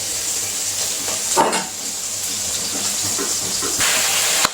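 Vegetables hiss and sizzle loudly in a hot pan just after fried fish is taken out, a continuous steamy frying noise with a couple of brief stirring knocks.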